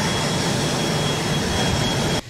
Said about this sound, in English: we don't even need a lot of runway to even land this aircraft